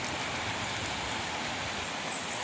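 Heavy daytime monsoon rain pours onto a rooftop terrace, an even, dense hiss of falling water with no pauses and no voices.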